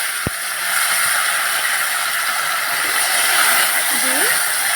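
Lotia fish, rubbed with salt and turmeric, hits a hot pan with a dull thud, followed by a loud, continuous hiss of sizzling oil. A faint voice may be heard near the end.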